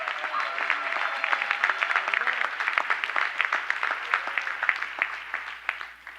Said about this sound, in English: Please stand and let's applaud them.